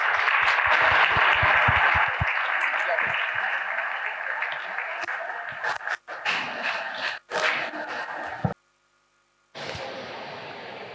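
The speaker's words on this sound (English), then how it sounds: "another huge round of applause." A crowd gives a sustained round of applause with loud, dense clapping at a school valedictory ceremony. It thins and breaks off briefly near the end before resuming.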